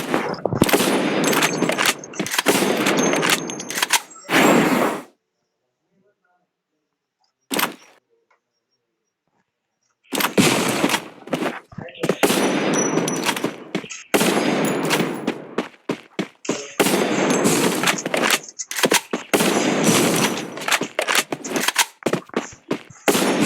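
Bursts of rapid gunfire in a shooting video game, dense rattling volleys packed together, then a few seconds of near silence with a lone shot before the firing resumes heavily, with no speech.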